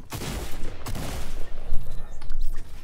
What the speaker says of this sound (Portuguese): Aí, eu acertei um tiro, velho.